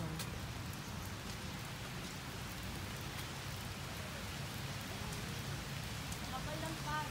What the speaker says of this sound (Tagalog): Ulan dito, Jo.